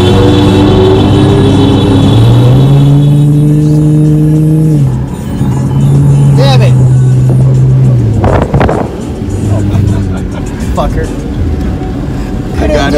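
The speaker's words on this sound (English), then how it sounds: "There's a car behind me." A car drives close behind, its engine a steady droning hum that shifts pitch as it rolls along, with clattering bumps and people talking over it.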